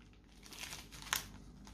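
A large plastic vacuum bag for dry-curing meat in a refrigerator, about 60 by 25 centimetres, crinkles faintly and close by, with soft rustling building to one sharper crackle near the end.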